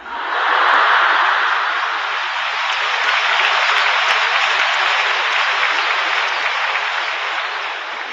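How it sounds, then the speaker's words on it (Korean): Lecture audience clapping continuously in a hall, a smooth, unbroken roar of many hands that holds steady for about eight seconds, loud and slightly muffled, with no talking. "이 강연 중에 자연 발생적으로 박수를 연속으로 치는 건"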